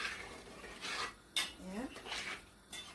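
Curry with hot pepper sauce gets stirred in a pot in a Jamaican home kitchen, a spoon scraping and clinking against the metal in several short, close bursts with brief pauses between.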